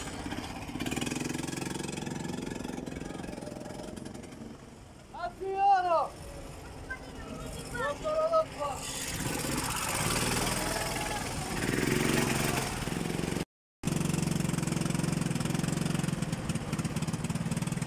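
Go-kart engine with a fault that keeps making it stall, idling and running at a low rumbling drone through much of the stretch, with a couple of rising revving sweeps midway, a brief cutout, and people talking over it.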